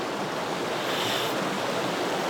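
Clark's Creek, a trout stream in state game lands, rushes with a steady broadband wash of flowing water, constant and close, with no voices.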